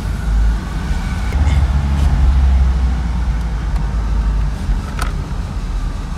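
A Ford Scorpio 2.0i GL runs on the road after repair, a steady low engine rumble with broadband road and tire noise, swelling slightly mid-way, close and fairly loud with no talking.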